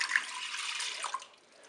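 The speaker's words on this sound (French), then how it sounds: "Je vais maintenant verser le lait dans la cuve." Milk poured into the bowl of a Cookeo multicooker, a soft, steady liquid pour that tapers off after about a second, close and fairly quiet.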